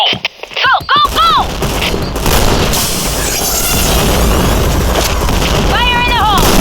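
Grenade blast in the shooter game Point Blank, a loud booming burst followed by sustained roaring noise, with shouted voice lines heard near the start and again at the end.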